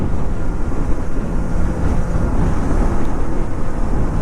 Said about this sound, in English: Other bikes have mechanical sound, but inline fours have this beautiful sounding engine.